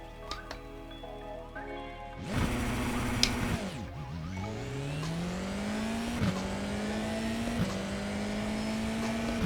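Race car in the iRacing sim doing a dual clutch launch: a loud engine rev flares, then the engine pulls hard through rising gears with quick shift dips, steady and close, with no talk.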